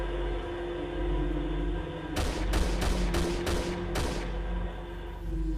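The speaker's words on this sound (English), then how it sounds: "you hear the first of 6 gunshots fired in quick succession" Six sharp gunshots crack in quick succession, fairly close, over a steady low mechanical hum.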